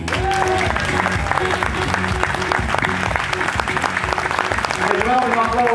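Warm applause from a festival crowd at Gentse Feesten for two stage performers, dense steady clapping throughout with music or voices mixed beneath and a vocal line rising near the end.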